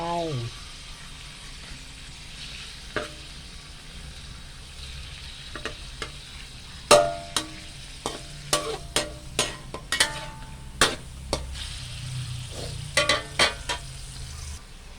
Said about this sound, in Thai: ใส่หมูลงไป อันนี้น้ำมันยังไม่ร้อนเลย ยายใจร้อนใส่หมูไปก่อนนะ